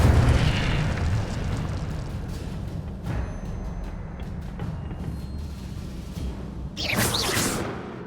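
An Incendio fire spell cast in Hogwarts Legacy, a burst of roaring fiery whoosh followed by crackling and a sharp flaring swell near the end, loud and up close.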